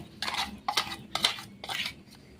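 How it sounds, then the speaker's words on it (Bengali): Thick ground rice paste is scraped and poured into a bowl, giving four short close scraping clatters of a spoon against the container, spaced about half a second apart in a quiet kitchen. "এরপর একটা বাটিতে ঢেলে নিচ্ছি"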